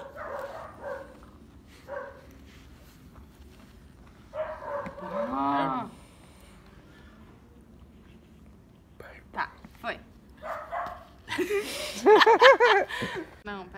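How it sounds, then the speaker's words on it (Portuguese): A neighbour's dog barks in a few separate bursts, somewhat distant, between soft whispering and quiet talk indoors. "Nem se preocupem com os latidos do cachorro, porque aqui na minha casa, nesse momento, o cachorro da vizinha também está latindo."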